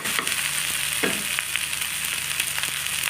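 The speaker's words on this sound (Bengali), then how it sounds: "আদাটা ভাজা ভাজা হয়ে গেছে।" Ginger, tomato paste and spices frying in oil in a pan for a Bengali oily fish curry, a steady close sizzle with a few soft stirring scrapes throughout, no talking.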